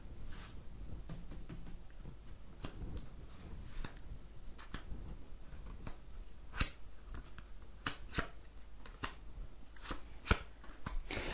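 Tarot cards are shuffled by hand nearby, a run of soft irregular riffles and snaps over about eleven seconds, quiet and alone without talk.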